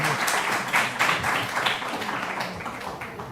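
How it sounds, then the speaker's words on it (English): An audience claps at the end of a lecture session on international relations and democratization in the Middle East, a dense burst of applause that fades over a few seconds. "we conclude the session with an applause for our speaker, Professor Adham Saouli."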